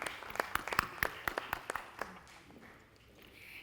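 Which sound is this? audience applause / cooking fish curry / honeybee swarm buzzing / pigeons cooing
audience applause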